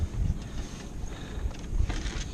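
A sailboat moving under sail, with low rushing water along the hull and gusty wind buffeting the microphone, all fairly close and continuous.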